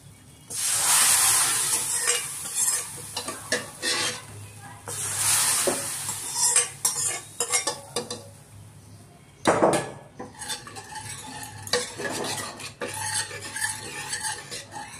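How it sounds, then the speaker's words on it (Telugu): Hot tempering (tadka) poured and stirred into cooked dal in a pot, with loud bursts of sizzling followed by repeated scraping and clinking of a spoon against the metal pot. "ఈ తాలింపు అంతా ట్రాన్స్ఫర్ చేసుకుంటాం అన్నమాట."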